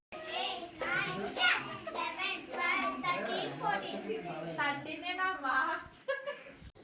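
A grandfather claps his hands in a playful, varied rhythm at a child's birthday party, the claps sounding close amid continuous children's chatter and voices.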